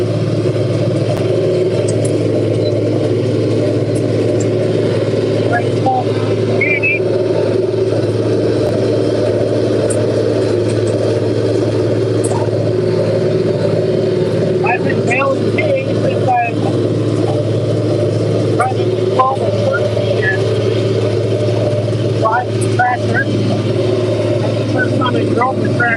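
A Farmall 826 tractor engine runs steadily while baling hay on a Wisconsin evening with a JD 348 baler, a loud continuous low drone with faint rattles, while a person talks over it throughout.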